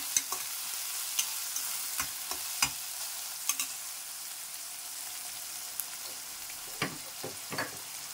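Beetroot sautéing in a pan for a Tamil-style salna, a steady sizzle broken by sharp stirring scrapes and clicks of the spoon against the pan, spread across several seconds with no one talking.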